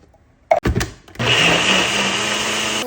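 A countertop blender purees canned cannellini beans, starting with a few brief bursts before settling into a steady, loud, continuous whir that runs to the end.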